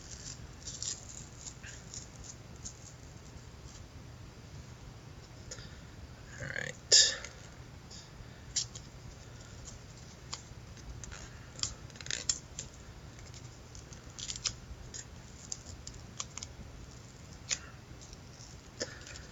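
A 2016 baseball rip card is torn open by hand, with one sharp, close tearing rip standing out among smaller crinkles and handling sounds.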